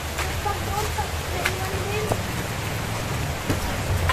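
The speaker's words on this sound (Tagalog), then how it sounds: "naabutan kami ng ulan" Steady evening rain patters on surfaces nearby at a farm in the Philippines, a dense, continuous hiss with occasional louder drops, while people sheltering from it talk faintly underneath.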